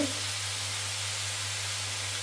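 Onions sautéing with salt in a pan: an even, close hiss of sizzling oil that holds steady throughout, over a faint low hum, with no voices.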